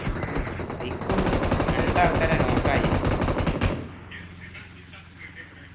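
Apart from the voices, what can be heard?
gunfire in a video game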